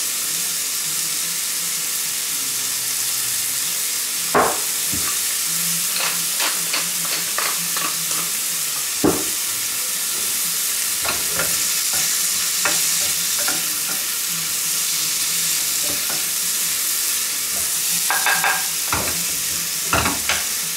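Vegetables sweat in a frying pan for a mushroom sauce, a steady hiss of frying under repeated scraping and clacking of a utensil stirring against the pan.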